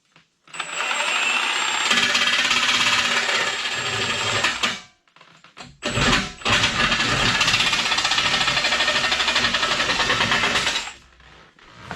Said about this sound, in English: I'm using my little jigsaw with a metal blade in there